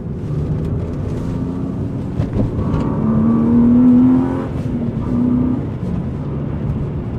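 A modified BMW 328i E36 engine revving hard under acceleration, a loud steady car drone that swells around the middle of the clip, with no talking.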